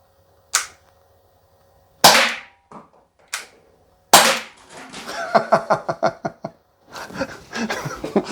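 An air pistol fires at a target in a string of shots: several sharp, loud cracks spaced a second or more apart, followed by a quick run of rattling mechanical clicks and a burst of noisy handling, with no speech.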